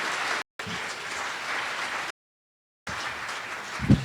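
A conference audience claps in sustained, dense applause, a steady roar of many hands broken by two abrupt silent cuts, with a brief low thump near the end.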